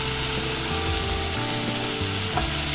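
Vegetables sizzle loudly and evenly in a pan, roasting for a South Indian style masala pasta with onion and tomato, with occasional faint scraping of a spoon; no voices.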